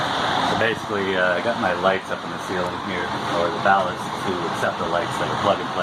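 An electric fan runs steadily on a hot day inside a bus being converted, a constant whooshing hum beneath someone talking close by throughout.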